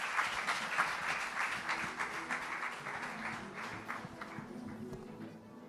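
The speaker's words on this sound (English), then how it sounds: "A big round of applause to Renuka," Audience applause at the SheShakti 2025 women's event in Mumbai, a steady crowd clapping with dense, even hand claps that hold level throughout without speech.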